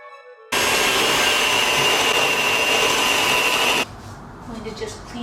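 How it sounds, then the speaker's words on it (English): A small electric hand mixer whips vegan butter and powdered sugar into buttercream, a loud steady whirring drone that starts abruptly and runs for about three seconds before cutting off to quieter room noise. "You don't think that a small little hand mixer can make a ton of buttercream?"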